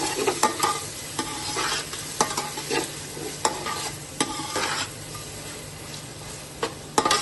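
Eggplant, tomatoes and green chillies sizzle and fry in a pan while a spoon stirs and scrapes, producing a steady close crackle broken by repeated sharp scraping strokes, with no talking.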